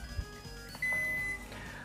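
A Zojirushi Micom AAQ-10/18 rice cooker gives its standard beep: one sustained, clean electronic tone lasting about half a second, close and alone over low room noise.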